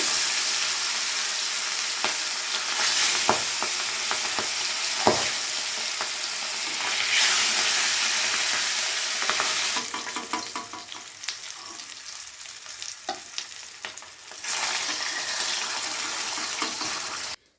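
Pieces of katla fish fry one by one in smoking-hot oil, a loud continuous sizzle and crackle that swells as each piece goes in, with occasional utensil knocks and clinks and no talking.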